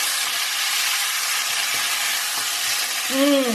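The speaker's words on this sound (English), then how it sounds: "I'm now going to add just a touch of lemon juice, coriander, some fresh curry leaves, and give that a mix" Cauliflower pepper masala being stirred in a hot pan with lemon juice, coriander and fresh curry leaves, a loud, dense continuous sizzle and hiss, with a brief tonal squeak at the end.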